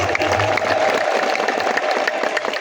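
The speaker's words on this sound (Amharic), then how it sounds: "ለዚህ ቤተክርስቲያን አጨብጭቡ" A church congregation at an Ethiopian Orthodox gathering claps together in a sustained, dense burst of hand-claps, with a faint low hum underneath.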